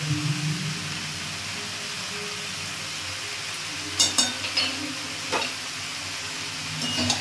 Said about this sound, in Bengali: এবার এটা ভালো করে এবার কষিয়ে নেব।